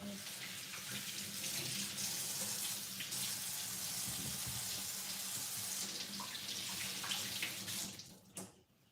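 Water from a kitchen tap running steadily over potatoes being washed, a close, continuous splashing rush that drops off abruptly near the end.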